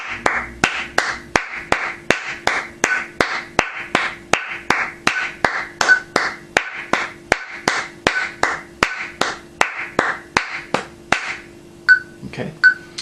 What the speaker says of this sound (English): you're going to clap twice per click